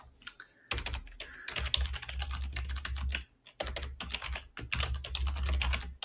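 Keys clatter on a computer keyboard in quick bursts of typing, close and clear, with a couple of brief pauses between runs of keystrokes.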